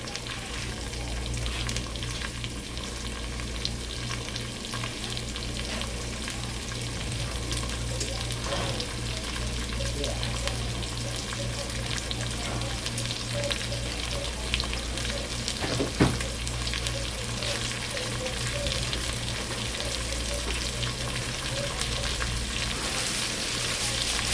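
Tilapia fish frying on a stove set to 8 keeps up a constant, dense sizzle with occasional pops and light clinks, close and steady with no talking.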